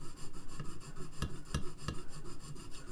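A knife blade rasps back and forth across a sharpening stone in steady, rhythmic strokes, close and fairly loud, with a few sharper scraping accents and no talking.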